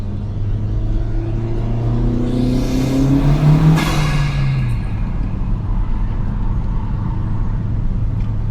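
A 2023 Honda Civic Si drives along in warm weather with no intercooler fitted, its steady engine drone rising in pitch as it accelerates mid-way, then settling into a low, even road rumble.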